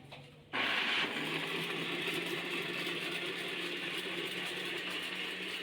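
An electric blender whirs at high speed blending pomegranate and beetroot with water, starting abruptly after a brief quiet moment and then running as a steady, loud motor drone with a whooshing churn.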